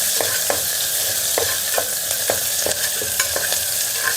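Onions fry in a pan with a steady sizzle while a spoon stirs them in regular scraping strokes, about two per second, close and clear with no talking.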